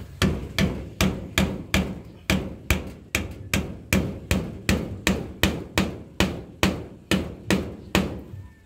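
Hammer blows ring out steadily while a chicken coop is built, about sixteen sharp, evenly spaced strikes close by, each with a short decaying ring and no talking over them.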